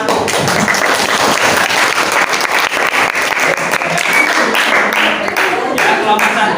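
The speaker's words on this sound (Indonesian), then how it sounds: "Kasih aplaus untuk kelompok 1" Classroom applause for a student group during a teaching session, a burst of brisk clapping from many hands, loud and close, filling the whole moment with some overlapping voices.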